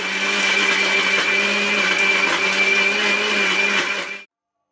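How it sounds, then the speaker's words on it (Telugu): A mixer grinder whirs loudly and continuously while grinding ginger chutney, a steady motor drone that cuts off abruptly just before the end. "వీలైనంత మెత్తగా గ్రైండ్ చేసుకోవాలి."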